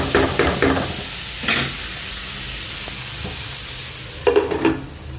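Duck curry frying in oil gives a steady, soft sizzle, broken by a few short bursts of scraping as the pieces are stirred in the pan.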